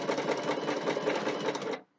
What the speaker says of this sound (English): If I put this down and just sew, not in setting 2, on setting 5